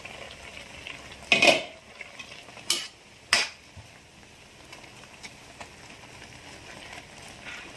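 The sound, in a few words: pot being covered with its lid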